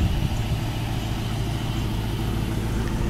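A 1967 Ford Mustang Fastback engine idles steadily, a low continuous rumble close by that holds an even level throughout, with no voices over it.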